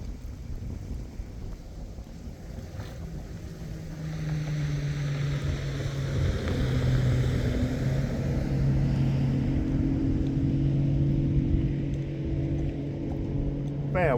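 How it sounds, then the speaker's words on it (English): A motorboat drones past with a steady engine hum, joined by wind buffeting and water sloshing as its wake builds and rolls in. "Here comes the boat. Here comes the wake."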